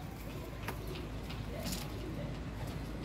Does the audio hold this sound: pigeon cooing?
yes